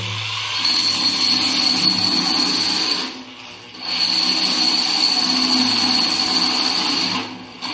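A power tool spins steadily while starting a groove for a bowl sink at a beach house build, a loud sustained whine that dips briefly twice before resuming, with no talking.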